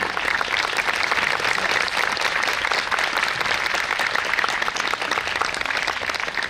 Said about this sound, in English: So let's have a big round of applause to welcome her.